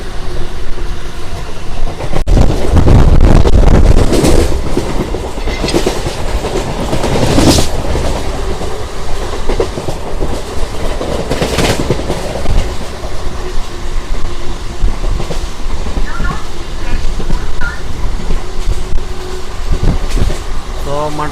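A MEMU passenger train between Secunderabad and Warangal runs at speed, a continuous loud rumble with clattering wheels and occasional sharper bursts, heard from inside the coach, with a voice talking over it at times.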